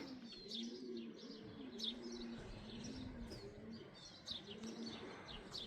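Racing pigeons coo softly and repeatedly in a loft, with scattered chirps of smaller birds and faint rustling over a steady background hiss, no voices.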